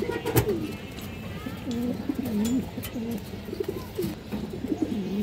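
A pair of Sapchila pigeons cooing in repeated soft, rolling phrases, close by against a steady murmur of background noise, with one sharp click near the start.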